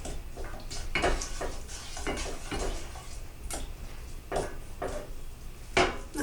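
Butter and sugar being stirred as they melt in a pan for Christmas crack, a steady scrape of a utensil against the pan with light clinks and ticks repeating at an irregular pace, close and alone.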